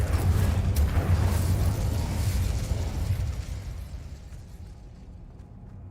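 Incendio fire spell cast in the Hogwarts Legacy game on PC, a loud roaring fiery burst that swells at once and then slowly fades over several seconds, with no talking.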